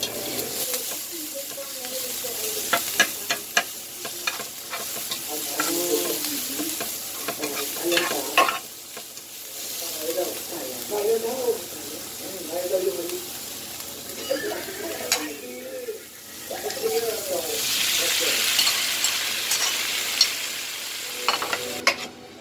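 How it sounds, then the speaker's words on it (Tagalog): Onion, garlic, ginger and tomato sauté in a pan, stirred with steady sizzling and scraping clatter, a louder hiss swelling near the end, with brief talk in the background. "maggigisa tayo ng sibuyas, bawang, luya, and syempre sunod natin yung kamatis"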